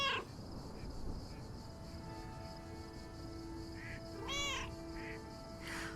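Cats meowing in the video game Lake, a few short faint mewing calls scattered over a quiet ambient background with steady tonal game music.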